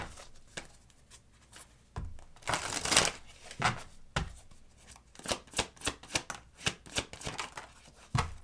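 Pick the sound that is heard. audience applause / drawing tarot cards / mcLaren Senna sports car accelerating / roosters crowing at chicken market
drawing tarot cards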